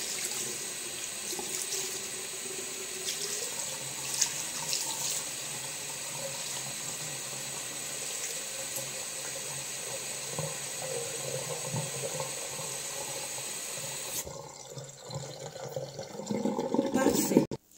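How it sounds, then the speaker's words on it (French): A tap runs steadily into a sink for rinsing during homemade shower gel making with Marseille soap, a constant close hiss of water with faint clinks, then it shuts off and brief handling noise follows. "Je rince."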